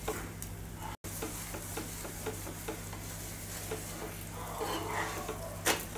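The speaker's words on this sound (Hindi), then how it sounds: "पराठे को दोनों साइड हम क्रिस्पी और गोल्डन ब्राउन होने तक हम सेकेंगे" A mixed veg paratha frying in a little oil on a low flame, with a soft, even sizzle and light scraping or tapping ticks spread throughout, near and unhurried, no voices heard.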